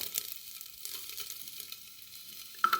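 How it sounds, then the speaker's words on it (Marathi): Green chili, ginger and garlic cloves sauté in a spoonful of ghee in a pressure cooker, a soft steady sizzle with light stirring scrapes, close and quiet, ending in a brief brighter crackle. "लसणाच्या पाकळ्या आणि तुपामध्ये थोडंसं परतून घ्यायचं"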